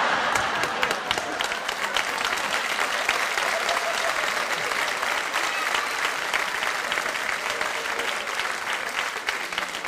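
A theater crowd at a stand-up comedy show breaks into loud, sustained applause, many hands clapping in a thick, even roar that holds steady for about ten seconds with no one speaking over it.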